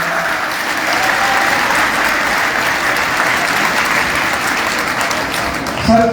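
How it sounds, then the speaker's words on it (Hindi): An audience at a political gathering applauding, a dense sustained wash of clapping from many hands filling the whole stretch, loud and close, with a louder burst at the very end. "ताली बजाओ।"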